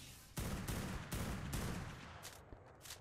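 Rapid bursts of gunfire in the survival game Ark, loud and close, coming in several heavy volleys with short gaps before trailing off into lighter shots.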